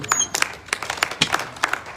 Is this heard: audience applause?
yes